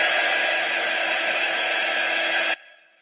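A handheld heat tool blows hot air over a craft transfer with a steady, loud, even whoosh that lasts about two and a half seconds and then cuts off, leaving a fading whir.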